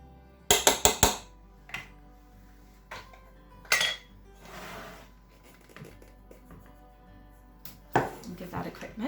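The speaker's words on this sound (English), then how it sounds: "I'm just going to give that a quick stir together" A spoon stirs baking powder and salt into flour in a mixing bowl for dairy-free strawberry muffins, giving a few quick, close clinks and scrapes against the bowl separated by quiet gaps.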